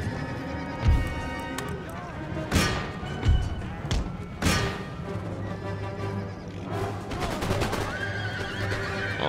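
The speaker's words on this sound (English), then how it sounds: "I'll have my regiment of horse show them how real soldiers fight." Cavalry horses charge in the Empire: Total War battle game, with loud whinnies and neighs over a dense bed of thudding hooves, clashing battle noise and background music throughout.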